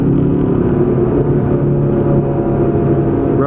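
A 2012 Camaro SS RS with a six-speed manual pulls in third gear around 4,000 RPM, a loud, steady low engine drone heard from inside the car without interruption.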